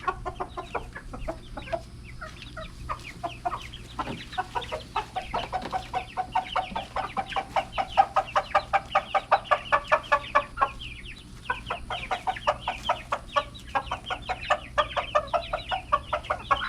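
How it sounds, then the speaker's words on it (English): A flock of farm chickens clucks busily at feeding time, a dense run of rapid, repeated clucks and squawks, loud and close, with a brief lull partway through and no talking. "Let's go feed these chickens."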